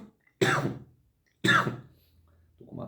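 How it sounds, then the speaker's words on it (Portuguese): Two distinct coughs, close and fairly loud, separated by a pause, followed by a softer throaty sound. "Estou com uma tosse chata desde semana passada"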